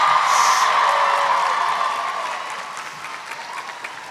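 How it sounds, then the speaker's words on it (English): Audience applause and cheering at a Disney princess voice actors' panel, a loud wash of clapping with a whoop early on that gradually fades over a few seconds. "Big round of applause"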